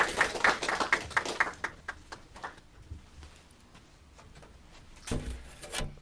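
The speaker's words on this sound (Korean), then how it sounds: "우리 나오실 때 우리 환영의 박수를 올려드리시겠습니다" A church congregation at a New Year thanksgiving service breaks into welcoming applause, a quick burst of many hands clapping that thins into scattered claps, then a few louder claps near the end.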